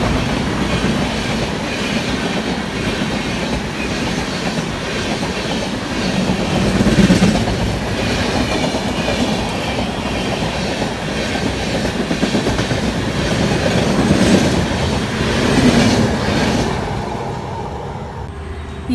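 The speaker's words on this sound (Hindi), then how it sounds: "यशवंतपुर से कामाख्या जाने वाली एसी एक्सप्रेस कृष्णा राजापुरम को स्किप कर रही है" Yesvantpur–Kamakhya AC Express rushing through Krishnarajapuram station without stopping, a loud steady roar of coaches with rhythmic clickety-clack of wheels over rail joints, swelling and holding for the whole pass.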